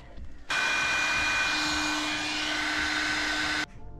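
A nitro model engine with its glow plug just reinstalled runs with a loud, steady, high-pitched buzzing roar for about three seconds, then stops abruptly, leaving quiet background.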